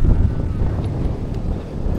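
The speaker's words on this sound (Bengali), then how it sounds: "প্রচুর বাতাস।" Strong wind gusting across a dusty river char, a steady low roaring rush buffeting the microphone, with no one speaking.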